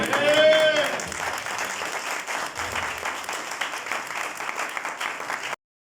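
A church congregation claps loudly and steadily after a sermon, dense hand claps carrying on at an even level before cutting off abruptly, with a brief electronic tone at the start.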